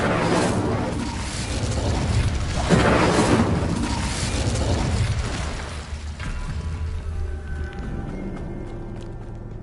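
Incendio fire spell cast in Hogwarts Legacy, a loud fiery whoosh and burst swelling over a few seconds amid dense game sound effects, with no voice.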